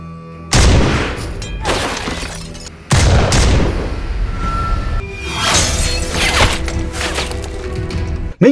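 Loud, close gunfire and impacts from a sniper-rifle action film: several sharp cracks and crashing booms with shattering debris and rumbling aftermath, one after another across the span, no voices.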